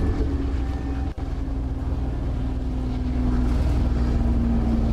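A steady low mechanical rumble of a train engine in the Choo-Choo Charles video game, a continuous droning hum with a brief dip partway through, heard alone.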